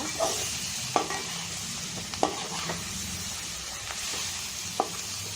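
Boiled cauliflower being stirred gently in a pan over a low flame, a spoon scraping and clicking against the pan in irregular taps over a soft, steady sizzle.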